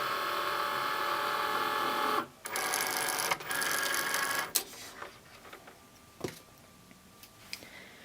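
Cricut Maker machine marking and cutting fabric, a steady whirring carriage for about two seconds, then faster buzzy passes, then quieter scattered ticks and clicks of the pen and rotary blade.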